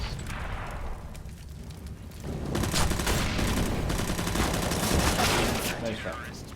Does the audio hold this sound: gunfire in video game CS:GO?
yes